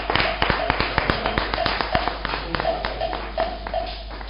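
A church congregation at a healing mass claps in uneven, overlapping bursts, close and fairly loud, with a voice faintly present beneath.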